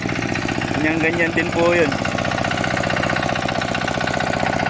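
Steady low engine drone with a regular chugging rhythm from a borrowed machine running close by, continuing throughout while someone talks over it.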